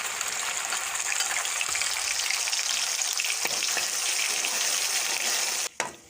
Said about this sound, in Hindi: अब इसमें प्याज का पेस्ट डाल लेंगे